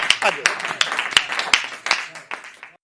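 An audience at a Hindi poetry recital claps in a quick, evenly spaced rhythm, about eight sharp claps that fade out after roughly three seconds.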